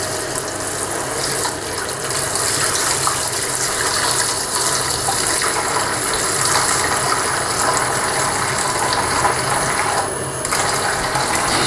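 Tap water runs steadily into a kitchen sink as a plastic lid stained with food colouring is rinsed, a constant hissing splash with faint clattering over nearly twelve seconds.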